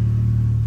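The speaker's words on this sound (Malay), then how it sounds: "kita dengar bunyi exhaust dulu lah" A turbocharged Toyota Rush exhaust gives a brief, loud, steady low drone close by, with no voices.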